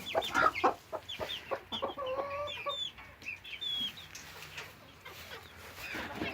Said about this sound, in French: il y a ma poule nègre soie qui couvre encore